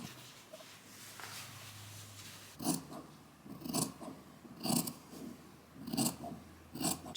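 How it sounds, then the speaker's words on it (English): Scissors cutting twill fabric, a steady series of about five crisp snipping strokes in a regular rhythm, close and fairly quiet after a few seconds of near silence, with no talk. "We're moving on to cutting our material now."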